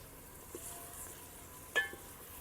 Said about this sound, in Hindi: यहाँ पे मैंने ना प्याज डाल के ना फ्राई किया, और साथ ही इसमें ना डाल दिए भाई हरी मिर्चें